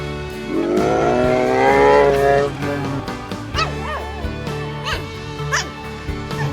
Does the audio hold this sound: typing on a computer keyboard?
no